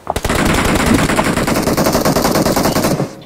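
Rapid automatic gunfire in a shooter video game, a loud, sustained burst of closely spaced shots that runs for about three seconds before cutting off abruptly.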